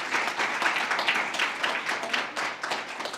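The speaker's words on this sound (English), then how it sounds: "Yes, clap for her." Applause from an audience at a Black women in science meet-and-greet session, a dense steady wash of many hands clapping close by, swelling and easing in waves across a few seconds with no talk over it.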